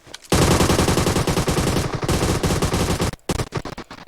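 Automatic gunfire in the mobile battle-royale game PUBG Mobile, loud rapid bursts that run almost unbroken for about three seconds, then break into a few scattered shots.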